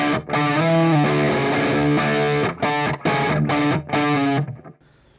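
A heavily distorted PRS SE Custom 24 electric guitar plays thick sustained chords in rhythmic bursts, then cuts out and fades to near silence.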